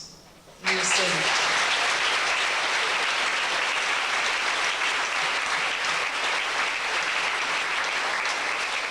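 A school awards-night audience bursts into loud, sustained applause that starts abruptly and holds steady for several seconds, filling the hall after a brief spoken announcement.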